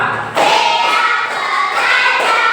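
A group claps together in a steady counted rhythm at a 2025 IPDL competition event. The claps are dense and loud, forming a continuous wash of applause with no talk over it.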